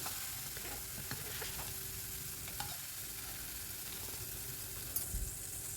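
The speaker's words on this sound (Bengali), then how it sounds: "হাই ফ্লেমে ভাজতে হবে যাতে ঝিঙের মধ্যে কোনো জল না থাকে" Ridge gourd pieces frying in oil in a kadai over a high flame give a steady, close, dense sizzle with faint crackles throughout, and no one talks.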